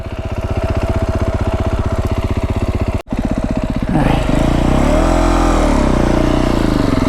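A Beta 350 X-pro dirt bike engine runs steady and loud throughout a mountain ride in southern Arizona, cutting out for a split second before roaring back with a rising, revving pull under load.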